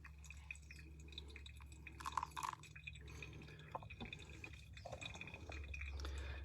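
Water poured over ground coffee in a V60 paper filter, a steady close trickle and drip with faint splashing as the stream lands on the coffee bed, continuing for several seconds.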